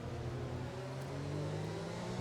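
A Formula 1 race car in the F1 2020 video game drives through a corner, a steady, loud engine whine holding a sustained pitch throughout.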